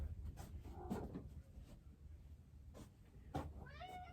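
A pet cat meows indoors, a short rising-and-falling call near the end following quieter earlier sounds, with light household noise and background hum throughout.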